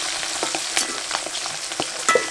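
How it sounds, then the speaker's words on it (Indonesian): Bird's eye and curly red chilies fry in oil with garlic for sambal bajak, a close crackling sizzle broken by scraping stirs and a few sharp utensil clicks against the pan, with no voices. "Kita goreng sebentar aja."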